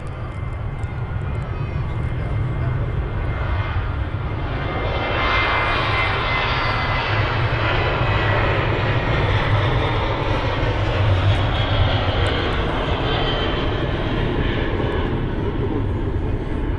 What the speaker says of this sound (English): Ryanair's rolling.